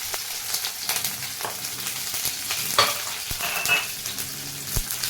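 Sliced onion hitting hot oil with cumin, mustard seeds and coriander for Punjabi kadhi, a loud crackling sizzle with sharp spits and stirring scrapes, close and steady.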